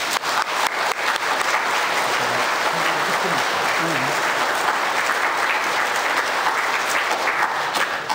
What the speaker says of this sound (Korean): 다시 한번 예비자 교리를 위해서 수고하신 선생님께 박수.